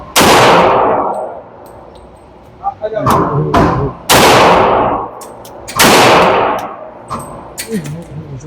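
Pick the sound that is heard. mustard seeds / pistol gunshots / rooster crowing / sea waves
pistol gunshots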